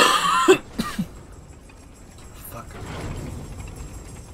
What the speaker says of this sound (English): I'm really sorry about the cough.